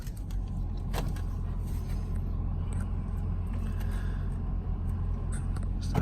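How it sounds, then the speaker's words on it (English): Ford Falcon ute six-cylinder engine idling steadily after start-up, a continuous low rumble throughout with a few light clicks and knocks inside the cabin. "So the way a 6-cylinder should sound"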